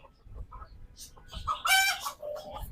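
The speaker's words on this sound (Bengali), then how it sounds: "ভিতরে দেখা যাচ্ছে কয়েকটা দেশি মুরগি" Several local native hens cluck and call at close range in a coop, short scattered calls with one louder, brighter outburst midway, over a quiet background.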